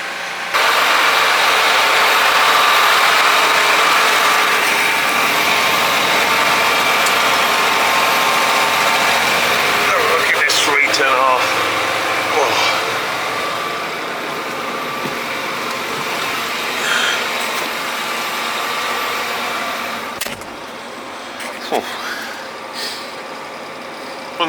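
A John Deere R series tractor engine runs steadily while pumping liquid slurry through an umbilical system on a farm, a loud continuous drone with a few brief clanks and shifts partway through, no talking.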